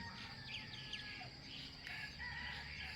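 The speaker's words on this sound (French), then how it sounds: "Peut-être aussi un coq." A rooster crows faintly in the distance on Moorea, French Polynesia, among chirping birds over a dense, steady outdoor background hum.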